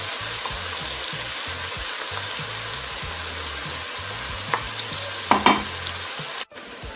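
Onion fries over medium heat in a pan for Peruvian seco de pollo, a steady crackling sizzle broken by rhythmic stirring scrapes and a couple of louder clinks toward the end, close and without speech.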